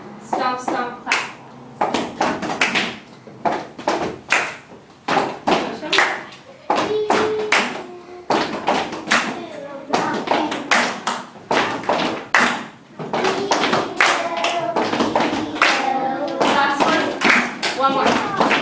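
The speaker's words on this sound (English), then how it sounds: "When your group is done, stomp, stomp, clap." A classroom of students stomping and clapping in a stomp-stomp-clap pattern, sharp taps and thuds repeating in bursts alongside children's voices and chatter throughout.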